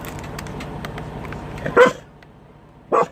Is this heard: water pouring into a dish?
no